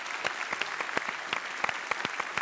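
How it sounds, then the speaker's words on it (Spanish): Studio audience applause on a television variety show, moderate and somewhat sparse, with distinct individual claps standing out sharply against a softer background patter. "Y este aplauso va para todos ellos."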